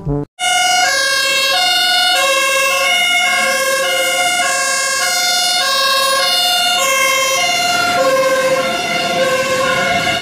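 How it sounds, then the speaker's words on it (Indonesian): A toy fire truck's loud electronic siren wails in a steady rising and falling pattern, close and continuous, with no voices. "Di sini ada mobil pemadam kebakaran."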